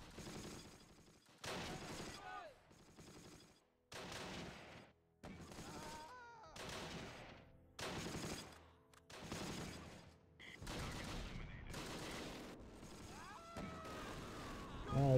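Bursts of machine-gun fire from the Close Combat: The Longest Day war game come in repeated separate volleys of rapid shots, with short pauses between them, loud and close throughout.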